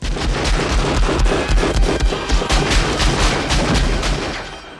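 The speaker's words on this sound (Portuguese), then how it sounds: "Na cena em que o personagem John McClane dispara uma arma debaixo de uma mesa." Gunfire from the Die Hard scene in which a pistol is fired under a table, heard as a rapid, continuous string of loud, booming bursts lasting nearly five seconds.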